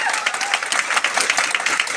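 An audience applauding a guest speaker at a business event in Mumbai, dense steady clapping from a crowd, moderately loud and continuous throughout.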